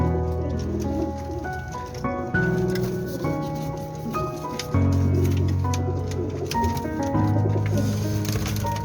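Pigeons, including a Royal Daddy breed bird, coo in soft repeated low warbles, several birds overlapping at close range, with a faint busy background.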